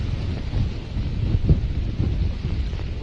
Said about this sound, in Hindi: ये करीब, मेरा अनुमान है कि करीब 100 किलोमीटर प्रति घंटा के रफ्तार की हवाएं होंगी।